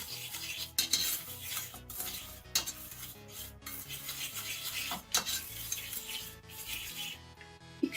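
Flour and sugar are stirred together in a bowl for a flourless bean-based cake, with a steady rough scraping and rubbing of the utensil through the dry mix and occasional sharper knocks, close and fairly quiet, no talk.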